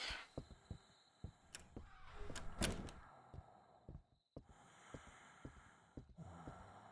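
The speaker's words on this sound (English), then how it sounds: "Going to ignore the breathing noise." Heavy, uneven breathing in the We Harvest Shadows horror farming game, with sharp snorts and gasps coming in irregular pulses alongside soft thuds, close and fairly quiet.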